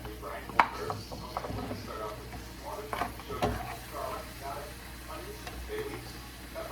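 Frozen shrimp rinsed with vinegar sizzles in a pan with onions, a steady low frying hiss broken by a few sharp clacks of stirring, with a voice talking quietly over it.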